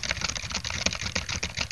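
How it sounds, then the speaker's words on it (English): Fast, continuous typing on a computer keyboard, close and clear, with dense irregular key clicks and no talk. "I'm just going to type random text"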